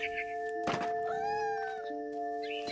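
A cat meows in the video game What Remains of Edith Finch, one drawn-out, rising and falling meow standing out clearly over a steady game music tone, with a soft thump near its start.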